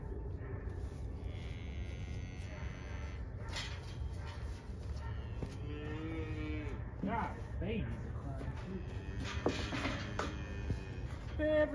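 Cows and their calves moo repeatedly in a farm pen near a head gate, with overlapping calls that are loud and close against outdoor background noise.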